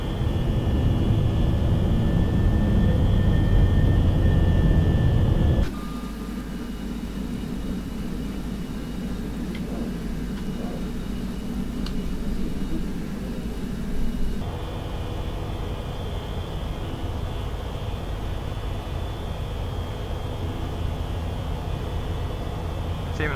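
An Airbus A320 on the FSLabs flight simulator takes off from Tromsø, a loud roaring engine rumble that abruptly drops to a quieter steady drone as it climbs, with a voice talking intermittently over it.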